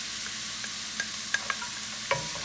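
Celery cooking in a pot for spicy cabbage soup, a steady hiss of sizzling with a few light clicks of stirring, close and continuous with no talking.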